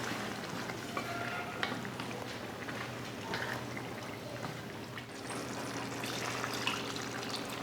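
Cowpeas cooked in salted water are stirred together with masala in a pan, a steady wet sizzling and scraping with occasional clinks running throughout, close and moderately loud with no talking.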